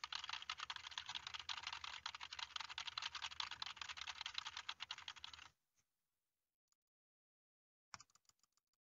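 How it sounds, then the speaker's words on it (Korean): Rapid, dense keyboard typing clatters close by for several seconds, then stops abruptly; after a pause, a few scattered mouse clicks follow, picked up by an EPOS H3pro headset boom mic with no noise gate applied. "일단 아무런 설정을 하지 않은 상태로 키보드와 마우스 버튼을 눌러 보겠습니다"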